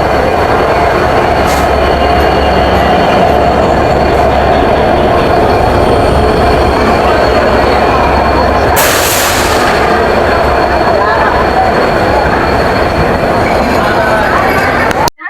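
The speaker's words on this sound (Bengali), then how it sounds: "মধুমতি এক্সপ্রেস।" The Madhumati Express rolling into Bhanga railway station, a loud continuous rumble of wheels and carriages with squealing rails and a sharp hiss burst midway, crowd noise and voices mixed underneath.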